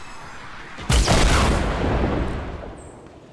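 A rocket explodes in Fortnite with a sudden loud blast, followed by a long rumbling decay that fades over a couple of seconds, with no voices over it.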